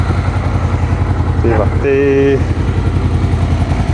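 A 2002 Honda VFR800 ABS motorcycle engine runs steadily at idle with a low, even throbbing pulse up close, while someone talks over it.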